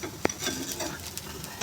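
Sprout corn uttapam topped with chillies and corn kernels sizzling in a pan as it is turned over, a sharp clatter at the start followed by a soft, continuous sizzle with light scraping.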